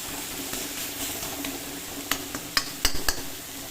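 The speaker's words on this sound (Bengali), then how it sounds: "দেখো শাক ভাজা রেডি হয়ে গেছে।" Fenugreek greens frying with garlic and chilli give a soft, continuous sizzle while being stirred, with a few sharp scrapes and clinks of the spatula against the pan near the end.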